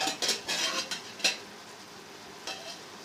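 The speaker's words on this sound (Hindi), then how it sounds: "अब हम इसमें घी डाल देंगे।" Ghee being added to cooked aloo gosht in a pressure cooker, heard as a few close metallic scrapes and stirring clinks against the pot, with short bursts and a faint sizzle before it quiets.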